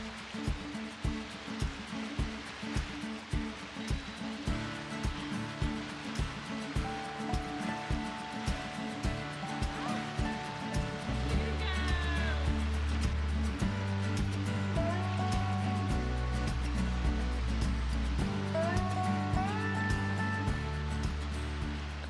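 A river rushes in a steady broadband wash that runs unbroken throughout, with a faint tonal hum layered underneath and no voices.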